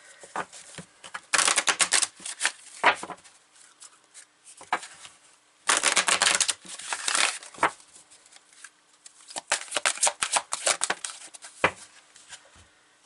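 Tarot cards being shuffled by hand, heard as repeated dense riffling bursts of papery flutter with brief quiet gaps between them, close and fairly loud with no talking.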